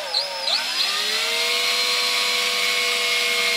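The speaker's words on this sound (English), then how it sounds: "what we got to do is drill a pilot hole" A small drill slowly bores a pilot hole for dowel making, its motor whine rising briefly at the start and then holding a steady, close, sustained hum.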